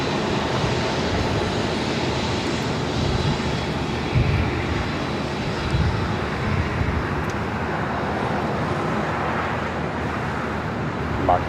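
A Delta airliner taking off from a runway at LAX, with a loud, continuous engine roar that holds steady throughout and blends with distant road traffic noise.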